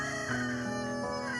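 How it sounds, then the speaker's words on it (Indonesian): A rooster crows once at dawn, loud and close: a sustained, strained cock-a-doodle-doo that rises, wavers and falls, with no other sound around it. "Saat terbit matahari terdengar banyak sekali ayam berkokok."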